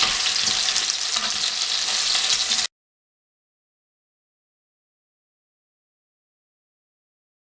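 Chitol fish pieces coated in turmeric and salt sizzle in hot oil in a pan, a loud, close, hissing crackle for under three seconds that then cuts off into silence.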